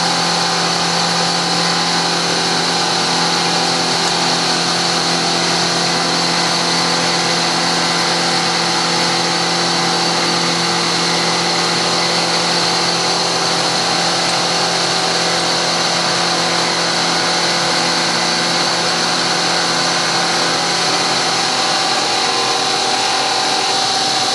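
Metal-cutting machine feeding slowly at 5 inches a minute through half-inch-square material, a loud, steady, continuous machining drone with a constant tone that never varies, with no talking.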